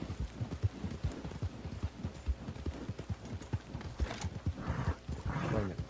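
Hooves clip-clop in a quick, steady rhythm as a horse is ridden across open ground in Red Dead Redemption 2 Online, close and distinct, with a brief snort or whinny near the end.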